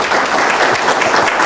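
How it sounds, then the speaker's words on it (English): An audience at a village state-of-the-address event applauds the newly introduced police chief, a close, dense wash of clapping filling the brief moment without voices. "so we'll give him a round of applause"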